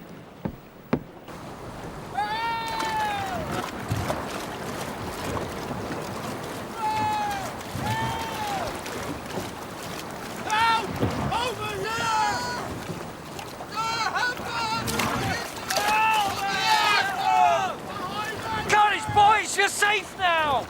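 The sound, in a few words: boats launched at sea to pick up survivors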